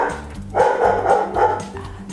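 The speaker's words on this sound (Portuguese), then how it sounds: "Cachorrinho." A small dog gives a short run of quick, close yips and barks, loud and alone against faint room noise.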